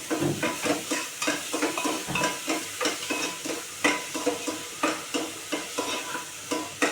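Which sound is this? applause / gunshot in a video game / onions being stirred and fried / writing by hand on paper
onions being stirred and fried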